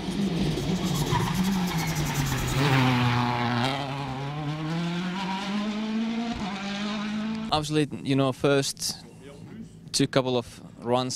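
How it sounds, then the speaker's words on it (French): A Citroën DS3 WRC rally car driven by Mikko Hirvonen during Monte-Carlo testing roars past up close, its engine note climbing in pitch through the gears before fading, after which a voice talks over choppy bursts of sound. "L'occasion pour Mikko Hirvonen d'effectuer ses premiers tours de roue au volant de la Citroën DS3 WRC"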